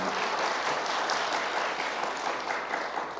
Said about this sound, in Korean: 우리 하나님께 박수 영광 돌리겠습니다